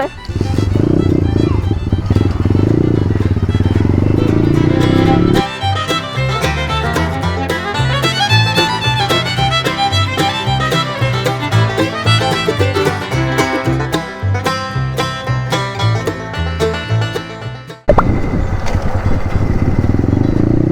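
A motorcycle engine runs loud and close, revving and rattling steadily as the bike rides off in low gear for a first jump practice over a mound, with a brief cut near the end.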